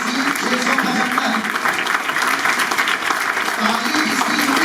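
An audience applauds a top-ranked student at a coaching institute results ceremony in Kanpur, dense sustained clapping from a crowd nearby, with a voice briefly heard over it.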